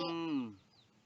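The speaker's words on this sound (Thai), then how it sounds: "อันนี้ไก่" A single short chicken call, a strained harmonic squawk that falls in pitch and fades, close by with quiet background afterward.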